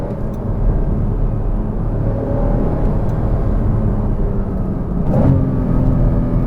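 Porsche Cayman S 981 engine on a tight, narrow road, downshifting into first gear for a hairpin: a steady close engine drone under cabin rumble, with a brief rise and blip late on.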